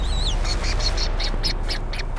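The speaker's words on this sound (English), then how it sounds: "The menacing presence of petrels zeroes in on a small penguin" Petrels call near a small penguin in the wild, a high whistling note followed by a run of about eight sharp, evenly spaced calls over a steady low rumble of wind or surf.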